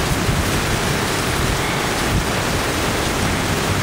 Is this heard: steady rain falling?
yes